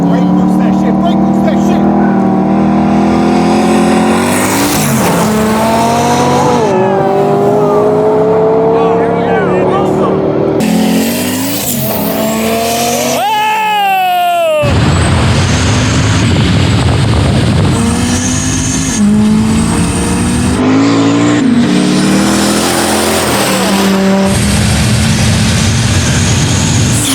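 A McLaren 570S Spider and a sleeper Volvo wagon accelerate hard in a roll race, engines revving up through rising gear changes with loud wind noise up close, and people talk excitedly throughout.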